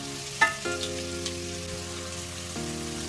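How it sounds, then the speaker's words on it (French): Monkfish pieces colouring gently in a pan over very low heat, a soft steady sizzle with faint crackles that stays quiet under low tonal background hum. "On va venir donner une très légère coloration à nos morceaux de lotte"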